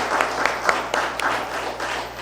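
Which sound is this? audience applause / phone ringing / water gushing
audience applause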